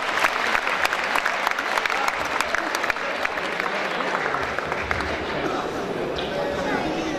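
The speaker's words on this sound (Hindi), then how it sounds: "एक बार जोरदार ताली बजाइए" A crowd at a Hindi comedy poetry gathering breaks into loud, dense applause that holds evenly throughout, with voices faintly audible in the mix.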